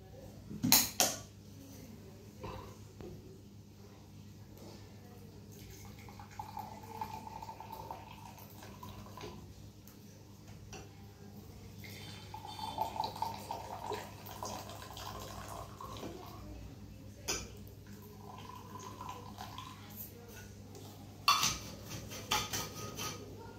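Hot water poured into two empty glasses, a quiet trickling stream with clinks of glass at the start and end, faint and close throughout.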